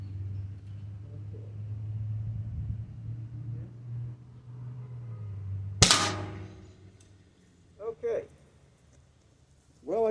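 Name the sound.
Byrna less lethal kinetic shotgun firing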